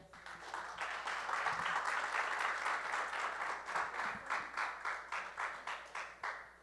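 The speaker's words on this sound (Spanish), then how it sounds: "Dale un aplauso a Dios." Church congregation claps in a sustained round of applause, a dense rush that settles into a steady rhythmic beat near the end, heard at moderate distance over a low hum.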